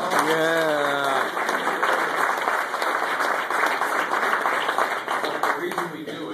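An audience gives a round of steady, dense applause at a community gathering, sustained for several seconds. A brief voice is heard at the very start before the clapping takes over.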